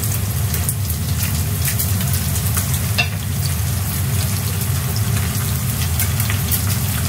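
Ginger, garlic and onion paste fries in hot oil for noodles, giving a steady, loud, dense sizzle that holds evenly throughout with no talking.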